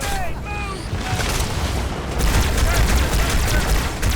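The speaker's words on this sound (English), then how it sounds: "I am shooting the aliens." Bursts of alien gunfire and explosions in the Halo 2 video game, with rapid repeated shots and booms. After a couple of seconds the action grows louder and busier.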